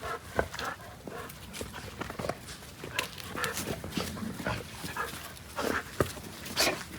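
A reactive goldendoodle service dog and other dogs make scattered whimpers, snuffles and movement sounds, with jingling and paw or tag clicks during a training session, fairly close but not loud.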